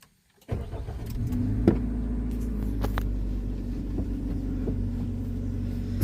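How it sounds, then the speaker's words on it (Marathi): A car engine starts after a moment of silence and then settles into a steady idle with a low, continuous rumble, close and fairly loud, with a few small clicks and knocks over it. "गाडी स्टार्ट करतो."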